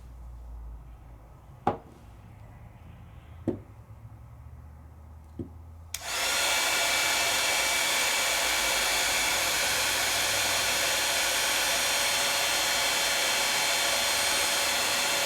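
A heat tool switches on after a few sharp taps and blows a steady, loud whooshing hum that continues unbroken to the end while material melts under it.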